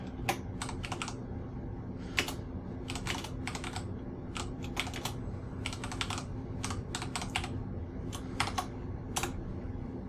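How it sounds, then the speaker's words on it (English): Rapid bursts of keystrokes on a computer keyboard while a message is typed, irregular clusters of clicks close by over a steady low background hum, with no talking. "I could, you know, put a message out to them if I can type."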